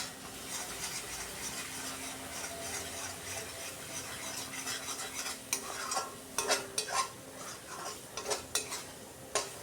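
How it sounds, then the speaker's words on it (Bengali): Spice masala being fried and stirred in oil for a rohu fish curry with spiny gourd and potato, a steady sizzle under scraping utensil strokes that grow sharper and more clattery toward the end. "মশলা থেকে তেল ছেড়ে আসছে আর মশলাটাও শুকনো শুকনো হয়ে গেছে।"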